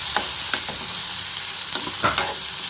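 Onions sautéing in a pan for paneer butter masala give a steady close sizzle, broken by a few scraping stirs of the spoon, with no voices.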